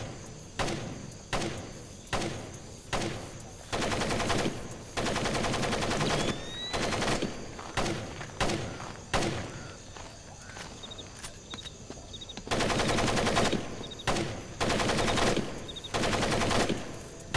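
Machine gun fire in the video game Splinter Cell: Pandora Tomorrow (Kundang Camp, Indonesia level) rattles in repeated bursts, some short and some long, loud and close with brief pauses between volleys.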